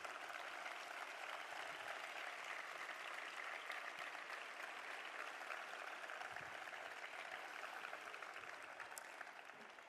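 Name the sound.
audience applause at a gala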